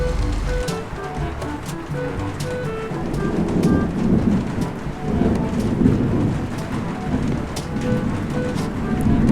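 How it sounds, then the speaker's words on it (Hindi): Heavy rain pours steadily while low rumbles of thunder roll through, the downpour dense and continuous with no voices. "तेज बारिश आ जाती है और आग बुझ जाती है"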